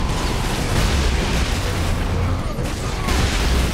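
Missile explosions in the Warhammer 40,000 Space Marine video game form a dense, continuous roar of booms and blasts, loud and close, with no clear gaps between impacts.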